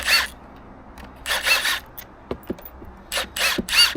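An 8mm socket wrench works the coil retaining bolts loose on an outboard motor by hand, making several bursts of ratcheting and scraping, with short clicks and taps in between, close by and fairly loud.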